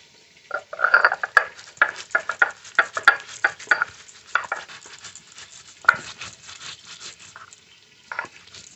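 Coriander, cumin and dried red chilli are ground into a wet paste on a grinding stone, a close rhythmic series of scraping, crunching strokes that slows and thins toward the end.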